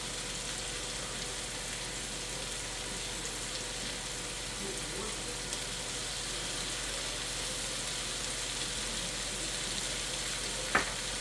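Chicken and vegetables with soy sauce stir-fry in a pan, giving a continuous even sizzle with faint stirring and one sharp utensil tap near the end.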